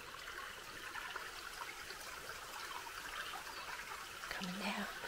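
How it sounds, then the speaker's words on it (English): A small creek trickles along a dirt trail among aspens and wildflowers near Dolores, Colorado, giving a steady, soft wash of running water throughout with no pauses. "Just a small little creek."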